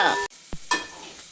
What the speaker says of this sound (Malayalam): ഇനി ഇത് നല്ലോണം അങ്ങ് മിക്സ് ആക്കി കൊടുക്കുക